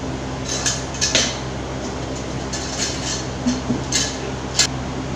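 Chicken pieces with curd, oil and spices being stirred in a bowl for chicken 65, heard as scattered light clinks and scrapes of a utensil against the dish over a steady low background hum, with no talk.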